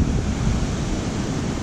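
Waterfall beside a campsite at the 345-meter portage on the Lady Evelyn River in Temagami, a steady broadband roar of rushing water heard up close with no talking.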